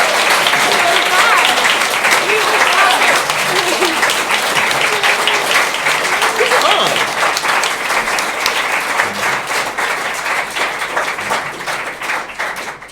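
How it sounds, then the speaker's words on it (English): Audience applause fills a room at the close of a live Dungeons & Dragons show, a dense, sustained wash of many hands clapping that carries on for several seconds and gradually thins toward the end, with a voice faintly audible beneath. "Give a round of applause for all of our adventures."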